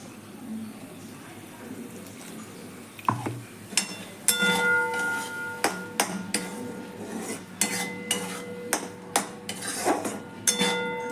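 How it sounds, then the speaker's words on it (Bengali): Turmeric, salt, cumin and chili powder are stirred in a cooking pan, with a spoon striking and scraping the metal in a series of sharp, rhythmic clinks after a brief quiet start. "আবার একটুখানি মিশিয়ে নেব"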